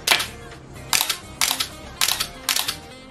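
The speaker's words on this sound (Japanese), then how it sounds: "シャッター切れておりますね。" A Canon EOS-1 film SLR fitted with a power booster fires its shutter five separate times, each a close, crisp mechanical clack followed by a short whirring rattle, with brief pauses between releases and no talking.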